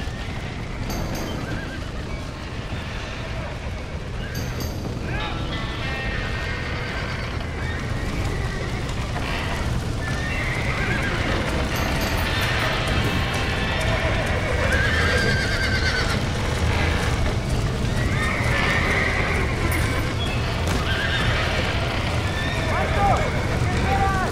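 Horses whinny and neigh repeatedly over a rolling clatter of galloping hooves in Red Dead Redemption, with game sound running throughout.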